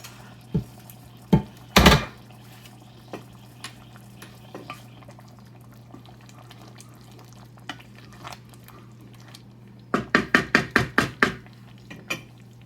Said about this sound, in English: I'm going to put them in the sauce, and I'm going to let them cook for just a little while in the sauce.